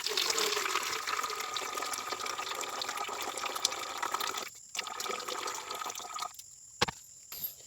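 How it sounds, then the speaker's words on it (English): Water poured off settled crushed gold-bearing quartz material during gold recovery, a continuous splashing, trickling pour that thins out near the end, broken by a couple of brief gaps and small clinks. "After I settle down and I decant the water,"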